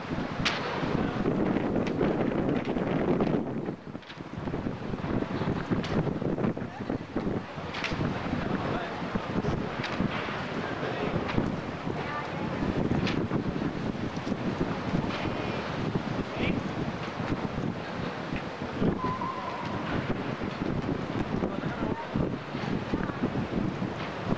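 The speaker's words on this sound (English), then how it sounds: "It is awfully windy. Windy and cold and noisy." Steady, heavy wind buffets the microphone throughout on a cold day in San Francisco, a constant roaring rumble with no clear voices.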